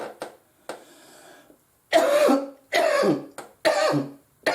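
Close, harsh coughing: a couple of light coughs, then several loud hacking bursts in quick succession.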